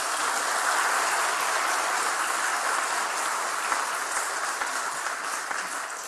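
A church congregation at an elder ordination service applauds to welcome the new elders, giving a broad, even wash of clapping that holds steady from start to finish with no voices.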